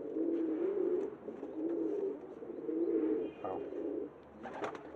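Shaqlabaz tumbler pigeons coo in a loft, a pair of close, low, throaty rolling coos repeating in steady phrases, with a faint rustle near the end.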